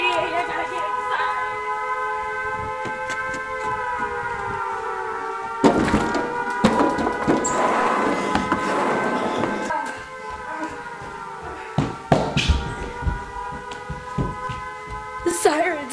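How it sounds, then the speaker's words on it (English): A steady wailing tornado warning siren with layered harmonic tones drones on throughout, in rain and wind, with people talking over it and occasional thumps and rustling nearby. "The sirens, they're still going off."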